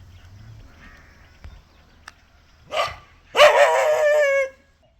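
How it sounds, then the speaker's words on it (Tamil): A dog near a honey harvest from a Commiphora caudata tree lets out a short yip, then a longer, loud, whining bark-howl close by, after a quiet stretch. "இந்த நாய் வேறு குழச்சிட்டே இருக்குது"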